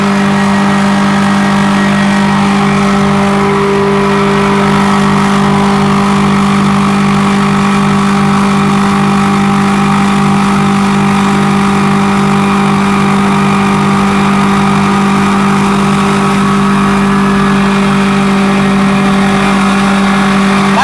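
A 40 horsepower motor-driven machine runs continuously at a steady, loud mechanical drone with a constant hum and no change in pace throughout.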